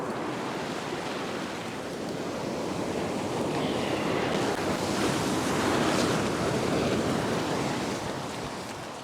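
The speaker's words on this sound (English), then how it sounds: "Got to get away from those raging waves." Rough ocean surf pounds a fishing beach in a continuous, roaring wash that swells and recedes, heard alone with wind buffeting the microphone.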